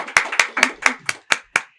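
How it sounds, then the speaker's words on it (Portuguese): Seven sharp, separate hand claps from a small group in a podcast studio, evenly spaced and close by, each ringing briefly before the next. "uma salva de palmas para nossa convidada"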